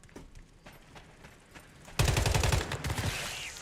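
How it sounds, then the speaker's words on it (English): Rapid automatic gunfire in the survival shooter Once Human bursts in loud and close after a quieter stretch of distant shots, continuing as a dense rattling volley. "The gunfire is a bit loud in the game."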